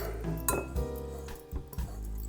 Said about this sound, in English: And we're going to mix them all together.